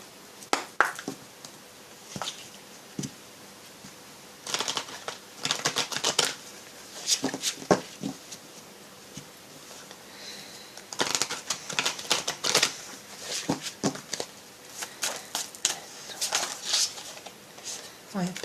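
Oracle cards are shuffled in repeated quick riffling bursts that come and go, close and fairly soft, with quieter stretches between the rustling clusters.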